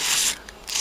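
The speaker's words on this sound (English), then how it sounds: "So I'm just sanding as much as I can" Hand sanding on a surface being prepped for quick repainting: two bursts of close, dry rasping scrape, a brief pause between them, with no voices.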